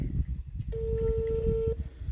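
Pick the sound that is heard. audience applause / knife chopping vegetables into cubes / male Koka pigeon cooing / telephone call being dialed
telephone call being dialed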